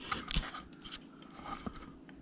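Close, quiet scraping cuts of a carving gouge working into a wooden bandsaw cowboy figure, a few short crisp scratches and small ticks in quick succession.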